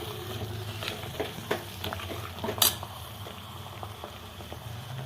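Chicken curry masala sautéing in a pan for a green-paste village-style chicken rassa, a busy close sizzle with repeated scrapes and clinks of a spoon stirring against the metal.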